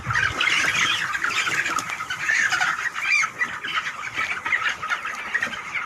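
Chickens crowd a poultry farm during flooding, clucking and squawking densely and continuously at close range with no talk.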